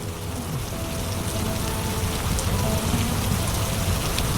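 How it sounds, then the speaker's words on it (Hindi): Steady heavy rain falling outside a poor village home, a dense continuous hiss and patter with no breaks, fairly loud and even throughout, no voices. "रामू बाहर बारिश देखने चला जाता है।"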